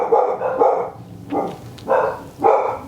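Dogs barking at neighbours bringing in dustbins, a run of loud, close barks in uneven bursts, with several spaced yaps following the first cluster.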